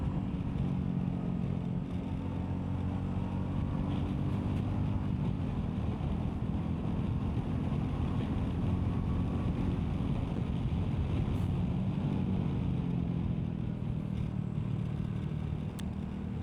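A Royal Enfield Meteor 350 motorcycle ridden at speed: a steady, loud engine drone with rushing wind noise throughout, with no breaks or talking.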